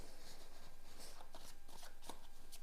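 Tarot cards shuffled and riffled in short, soft bursts of papery flicks, close and faint, with no voices.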